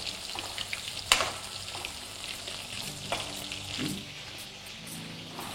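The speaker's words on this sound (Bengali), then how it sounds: "ব্যাস, এই স্টেজে আপনারা এটাকে পাল্টে নিতে হবে, একদম ক্রিস্পি করে ফ্রাই করে নিতে হবে।" Chicken pieces for dry chilli chicken frying crisp in hot oil, a steady close sizzle with a sharp utensil clack near the start and a few lighter scrapes later, no voices.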